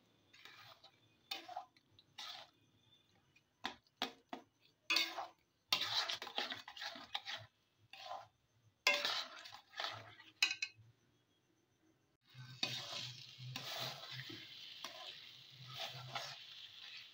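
Amla candy mixture cooking on a low to medium flame, stirred in bursts of scraping and clinking against the pan with short pauses, then a longer stretch of continuous stirring and soft sizzle.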